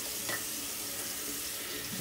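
Water runs steadily from a bathroom tap into a sink for a warm and cold rinse after shaving, a continuous close rushing splash with no talking.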